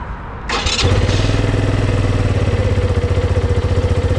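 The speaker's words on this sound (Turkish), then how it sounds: "Şu an motoru bir çalıştıracağım. Bakalım onun sesi nasıl gelecek." A motorcycle engine cranks and catches with a sharp burst, then settles into a loud, steady, throbbing idle close by.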